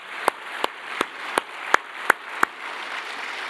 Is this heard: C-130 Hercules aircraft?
no